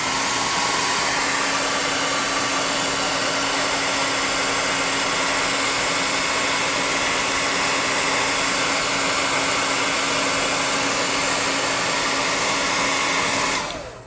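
A hair dryer blows steadily on a freshly painted tabletop miniature, a loud, even broadband whoosh with a constant hum that runs unbroken for about fourteen seconds before cutting off at the end.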